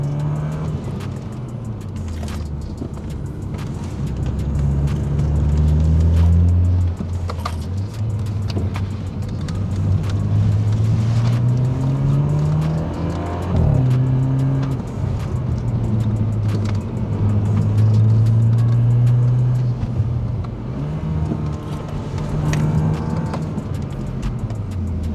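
A 2012 BMW 328i F30 in Sport Plus mode accelerates hard through several gear pulls, its engine growl rising in pitch again and again, loud and steady with no voices.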